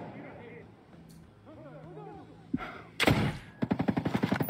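Rapid bursts of sniper gunfire crackle in quick succession, with a single sharp shot first, over faint game sounds and a murmur of voices.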